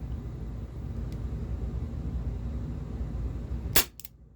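Two sharp, close shots from an Umarex Walther P38 4.5mm CO2 air pistol crack in quick succession near the end, following a few seconds of low steady background hum.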